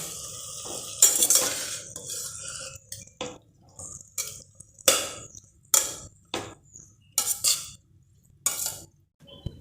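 A spoon stirs rinsed broken wheat into vegetables with turmeric in a pot, giving repeated scraping and clinking strokes against the metal, some sharp and loud, with quieter gaps between.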